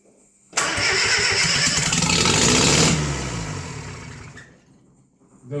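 A rebuilt Bedford CA van engine cranks and catches, roaring loudly for about two seconds before winding down and fading, then a faint rise at the end; close and alone without talk.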